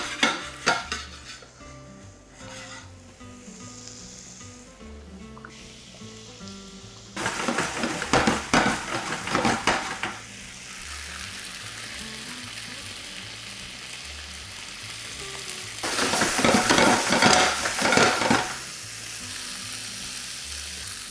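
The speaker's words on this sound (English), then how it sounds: "now I'm just going to quickly fry them so that they're browned on all sides" Meatballs browning in a frying pan for pomegranate soup, a steady close sizzle with two louder bursts of spatter and scraping where they are turned and stirred, no voices.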